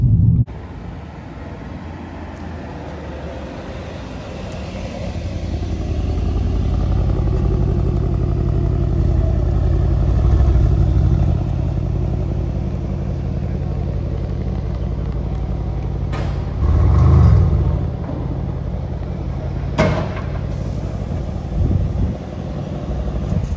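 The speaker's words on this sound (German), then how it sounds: "Jetzt fahren wir auf die Hebebühne" A Mercedes-AMG car drives slowly onto a workshop vehicle lift, giving a steady low engine rumble with a few heavier clunks and knocks partway through.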